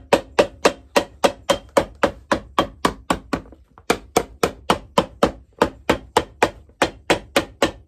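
A hammer beats on softened leather on a shoe being restored, in a fast, even run of sharp, loud, close blows. One short pause breaks the string partway through.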